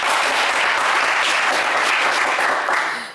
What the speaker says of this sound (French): On va vous applaudir très fort.